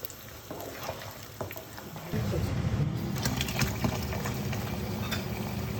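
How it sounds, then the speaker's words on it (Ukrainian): Cold running water rinses ingredients for Azerbaijani plov with meat and dried fruit, a steady splashing flow that starts about two seconds in and grows louder, staying close and continuous to the end. "холодну водою промиваємо"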